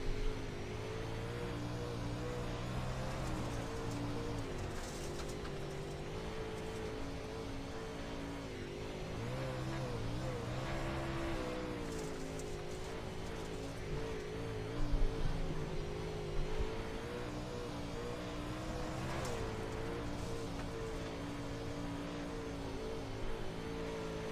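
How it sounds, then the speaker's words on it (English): A UMP dirt-track modified race car runs qualifying laps from the cockpit, its engine roaring loud and steady throughout with rising and falling revs through the turns and no talk. "we're going to have a cockpit view of Charles New III as he goes out and makes his qualifying laps"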